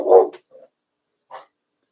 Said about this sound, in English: Whatever you're barking at, hush.